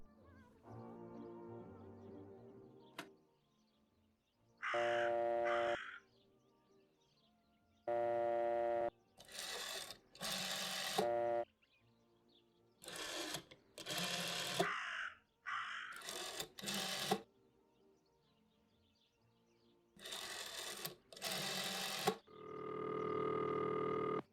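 A raven gives loud, harsh caws in separated single and double bursts, close and alone over a quiet background, with a longer drawn-out call at the end.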